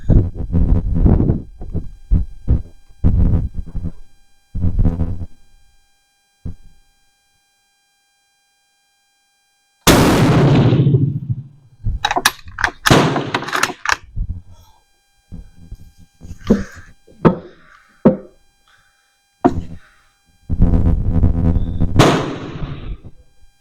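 A MAS 36 bolt-action rifle, adjusted for windage, lets off a single loud, sharp shot partway through, with a booming decay and other close handling and voice sounds around it.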